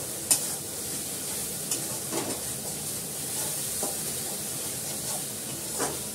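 Food frying in hot oil with heavy splattering, a continuous sizzle with scattered pops and stirring scrapes, close and moderately loud, no talking.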